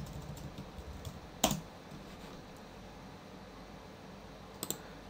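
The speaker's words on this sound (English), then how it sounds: "So you're going to type in login" Computer keyboard typing while entering a SteamCMD login for a Garry's Mod server: a few sparse, faint keystroke clicks over a low steady room hum.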